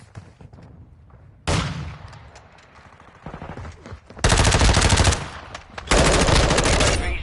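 Automatic gunfire in a Call of Duty match comes in loud, rapid bursts of dense shots, several sustained volleys separated by brief pauses, with faint quieter game sounds between them.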